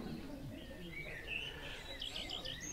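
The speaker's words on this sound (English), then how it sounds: "And here's the male cooing the female." A male bird calls to a female up close, with soft, repeated chirping notes rising over a low, murmuring outdoor background.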